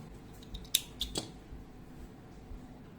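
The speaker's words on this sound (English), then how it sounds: "I will cut the rope" Scissors cut crochet yarn after the last chain of a phone bag, a couple of quiet close snips in a short otherwise still moment.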